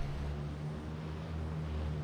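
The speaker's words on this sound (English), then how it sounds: "We gotta make it to that helicopter first." Steady low engine drone of a helicopter in the video game Call of Duty: Modern Warfare, a constant hum with strong low tones running throughout at moderate level, no talk.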